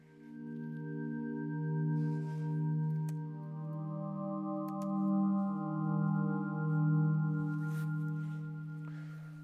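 Soft synthesized tones in overlapping, slightly detuned layers drift and swell with randomized envelopes, sustaining quietly for several seconds with gentle beating and no voices.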